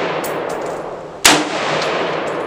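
A single sharp gunshot cracks at an outdoor gun range, loud and sudden against a steady wash of background noise.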